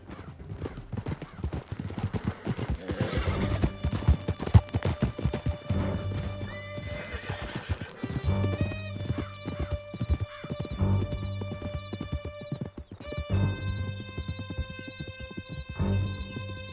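Horses gallop with a loud, steady clip-clop of hooves, broken by repeated neighs and whinnies throughout, close and busy like a mounted chase through a canyon.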